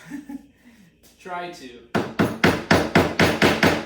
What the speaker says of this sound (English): We're going to take a hammer to each of these, to a small sample of each of these substances